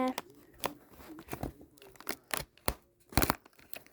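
Cardboard window of a Haribo advent calendar being torn open, with sharp tearing and crinkling bursts in irregular clusters, close and fairly loud, and a voice talking in between.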